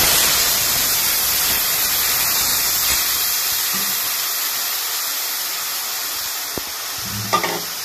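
Steady broadband hiss of hot oil sizzling with tempering spices, with a brief splash and rattle near the end as sour liquid is poured into the pan.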